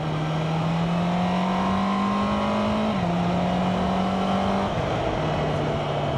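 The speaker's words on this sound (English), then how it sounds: "Sounds lovely. 4-cylinder screamer." A Honda CB650R four-cylinder motorcycle with E-clutch revs steadily and loudly up close, its engine note climbing slowly, dipping once and settling again, with no talking.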